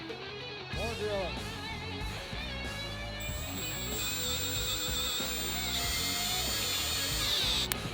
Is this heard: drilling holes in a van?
yes